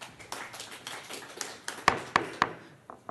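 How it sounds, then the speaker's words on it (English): A few people clap at an Orange County Board of Supervisors public comment session on homelessness: scattered light taps, then three distinct, fairly sharp claps close together, then it tails off in a quiet meeting room. "Please do not clap."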